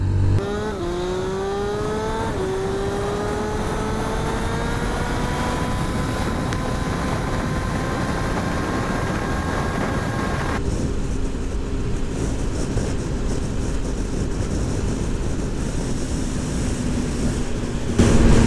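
A Yamaha FZ S V3 motorcycle accelerates, its engine note climbing steadily in pitch through a gear change before settling into a sustained drone under wind rush.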